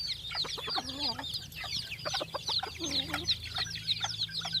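A white-headed breeder fighting cock clucks close by in low, repeated calls, over a constant chorus of high, thin chirping.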